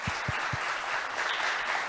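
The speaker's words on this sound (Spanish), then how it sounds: "Un aplauso." Applause from an audience at a talk held at the Usina del Arte in Buenos Aires, a steady dense patter of many hands lasting the whole moment, moderately loud with a few thumps near the start.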